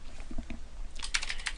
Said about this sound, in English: Notice I'm typing this just like the field name